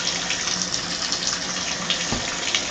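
Water rushes from a shower head switched on through a Delta shower diverter, a steady, close, continuous spray with no pauses.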